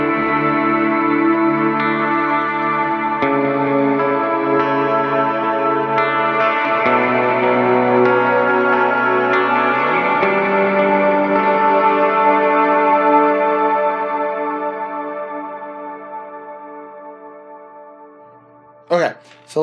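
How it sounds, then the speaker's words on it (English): Electric guitar through an HX Stomp ambient preset with very long decay, chords swelling into a wide reverberant wash that slowly fades out, followed by a brief sharp noise at the end. "This one is a very long decay and a very ambient top sound"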